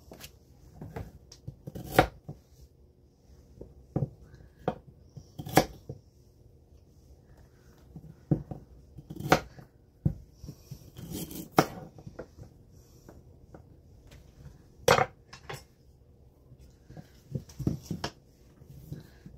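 Onions and a carrot being chopped on a board, sharp irregular knife strikes spaced a second or two apart, close and crisp against quiet surroundings.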